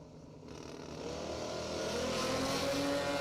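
Drag race cars launching down a quarter-mile strip at a Sunday drag racing event, a loud sustained engine roar that swells and holds steady, heard from the stands without talk.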